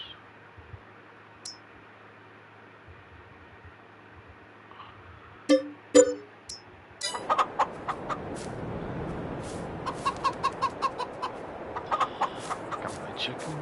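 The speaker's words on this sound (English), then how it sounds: "Got my chickens." Chickens cluck on a farm in the Farm Simulator 22 video game, scattered short clucks after a quiet start, joined by a busier stretch of pecking clicks and soft farmyard noise.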